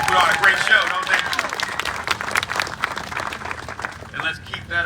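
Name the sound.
audience applause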